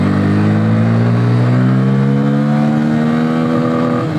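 A Bajaj Pulsar N160 motorcycle engine revs loud and close, its pitch climbing steadily toward redline over about four seconds with no voices over it.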